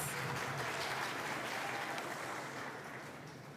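Audience at a schools' Black History elocution contest applauds after Nevis Academy's performance, the clapping faint and distant, a steady wash of hands that fades slightly toward the end.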